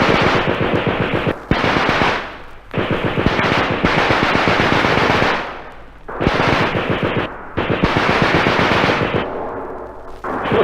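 Bursts of machine gun fire in a wartime combat drama, loud and close, coming in several long sustained volleys separated by brief pauses, with no voices over the shooting.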